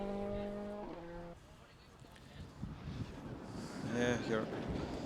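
Group N Mitsubishi Evo rally cars on a forest stage of the Irish Forest Rally Championship near Mallow, Cork, with engine tones rising and falling as they approach and pass, under someone talking close to the microphone.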